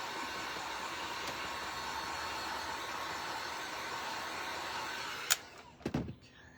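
A hair dryer blowing on a freshly painted wooden angel, a steady loud whooshing hum close by that switches off near the end, followed by a couple of soft handling thumps.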